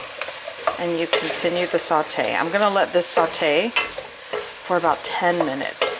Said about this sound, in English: And you continue the saute.